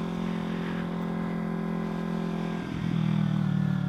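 Steady idling drone of a 2014 Kawasaki Z250 motorcycle engine, close and continuous, with a brief dip and slight rise in pitch near the end as the throttle shifts.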